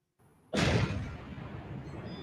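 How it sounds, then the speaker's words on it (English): An explosion in a Spider-Man video game erupts with a sudden loud broadband blast after a brief quiet lead-in, then settles into a sustained rumbling roar that holds steady to the end. "Explosion. Better check it out."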